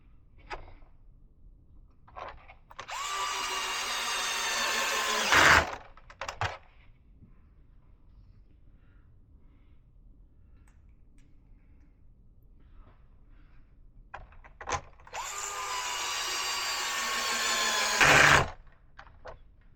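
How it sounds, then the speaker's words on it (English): An electric screwdriver with its clutch set to 7 drives screws into a Traxxas Slash Late Model RC car body, giving two sustained whirring runs of about three seconds each, each ending in a clutch rattle, with quiet handling clicks between. "I'm using an electric screwdriver, but I have the clutch set at 7 so it doesn't strip"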